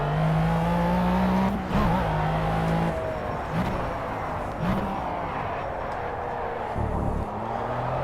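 A McLaren F1 race car in the Project CARS video game at Le Mans, its engine droning loudly at high revs with brief dips at gear changes before climbing again, steady and close, with no voices.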